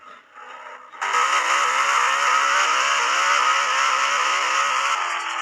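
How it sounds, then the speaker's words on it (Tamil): A turbocharged car engine holds a loud, steady whine and rush for several seconds after a quieter opening second, close and alone with no talk. "டர்போ சவுண்டு கேட்குது, நல்லா கேளுங்க."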